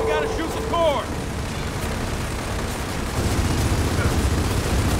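Gunfire in the video game Gears of War 4: dense, continuous crackling bursts of shooting across the whole stretch, with a few synthetic chirping game effects near the start, loud and close.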